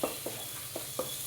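Chopped tomatoes stirred in a frying pan, a soft sizzle under a handful of light, evenly spaced scraping strokes from a spoon, no speech.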